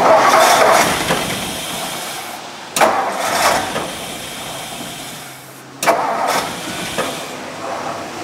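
Old starter on a 1958 Ford Ranch Wagon two-door with a leaky carburetor cranks in three loud, separate bursts, each rough churning attempt broken off by a pause and never quite catching.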